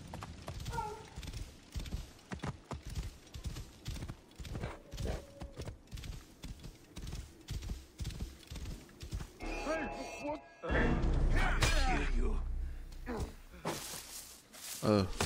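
Horse hooves clip-clopping in the video game Assassin's Creed Origins, a steady trotting rhythm with a brief whinny, under a player's talk, ending in a louder burst of game noise.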